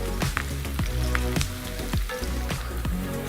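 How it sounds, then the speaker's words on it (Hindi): Onions browning in a pan for mutton curry give off a steady, crackling sizzle, with repeated sharp pops and spatters over a continuous frying hiss, close and moderately loud. "कुकर में भी बना रहे हो तो प्याज ब्राउन करने में कोई जल्दी नहीं करनी"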